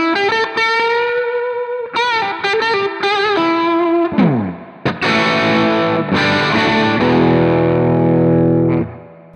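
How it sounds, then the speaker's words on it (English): Electric guitar played through an Overscream tube-screamer-style distortion plugin set to no drive, full level and tone near six, giving sustained gritty notes, bends and a strummed chord, loud and alone. "It's in distortion and it's called the Overscream, which is basically, obviously, a tube screamer."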